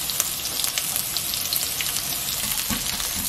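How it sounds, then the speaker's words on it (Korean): Sliced garlic and onion sizzle and crackle steadily in oil in a hot pan over high heat, close up, with occasional stirring scrapes and no voices. "좀 강불로 바삭 볶아주겠습니다."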